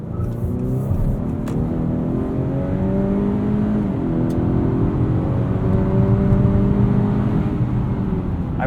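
Steady engine drone and tyre roar from inside a 2021 Honda Accord Sport 2.0T with a 10-speed automatic on a night drive, a continuous loud hum that rises and falls gently with speed, with no talking.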